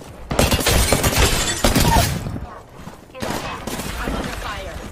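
Video game gunfire comes in two loud, rapid bursts, one after the other with a short gap between them. A voice is briefly heard among the shots.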